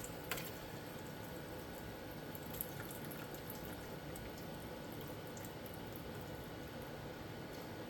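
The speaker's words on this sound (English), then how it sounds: "we will start by pouring off some of that liquid first" Liquid from roasted cherry tomatoes poured off from a pan in a kitchen, a steady continuous wet pouring wash that runs evenly throughout with a couple of small clinks, no talking.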